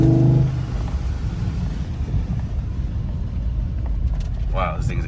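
A 2015 Cadillac Escalade with the 6.2 engine and a Banks cold air intake: a low, throaty rumble running steadily from near the start, with someone talking over it throughout.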